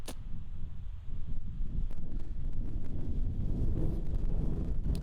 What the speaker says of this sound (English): Wow, really gusty.